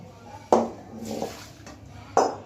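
A pot of boiled chow mein is lifted off the stove with two sharp metallic clanks and a faint slosh of water in between, close by and otherwise quiet.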